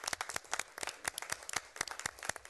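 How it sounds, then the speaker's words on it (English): An audience applauds at a city council meeting, a dense, steady patter of hand claps from several people close by, heard alone for a few seconds. "please note, we're breaking our no clapping rule, which I typically enforce"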